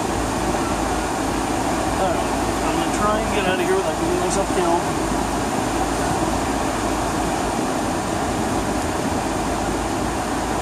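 An indoor air conditioner runs in a very hot room, making a loud, steady broadband whoosh and hum throughout, with a person talking over it.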